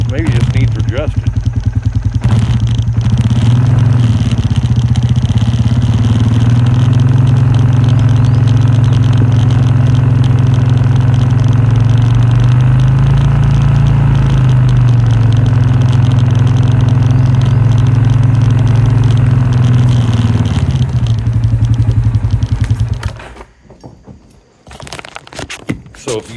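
A brand-new vehicle engine idles roughly, loud and close, with a low uneven throb and wavering pitch for about twenty seconds before it cuts out, leaving faint background noise.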